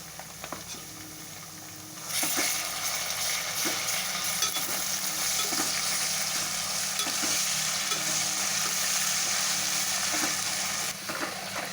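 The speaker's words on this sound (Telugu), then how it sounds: "అల్లం వెల్లుల్లి పేస్ట్ పచ్చివాసన పోయే వరకు ఫ్రై అయిందండి." Ginger garlic paste, onions, salt and shahjeera frying in hot oil for chicken fry, a steady loud sizzle that swells after a quieter start, with occasional stirring scrapes and no voices.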